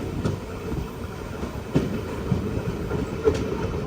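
A Madurai to Punalur express sleeper train rolls into Kottarakkara railway station with a steady rumble and faint rhythmic wheel clicks, heard from on board.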